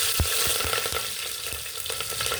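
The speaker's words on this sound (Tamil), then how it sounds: "வெங்காயம், கொஞ்சம் வதங்கணும்." Green chillies and onion with cinnamon and popped mustard seeds fry in oil for a mixed vegetable kurma. A steady close sizzle runs throughout, with repeated quick spatula taps and scrapes against the pan.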